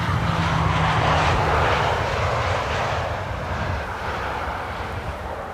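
A Compass Air Cargo jet flying for Emirates SkyCargo roars in to land at Schiphol's Polderbaan runway 18R, its engine noise a loud, steady broadband rumble that eases only slightly as it passes.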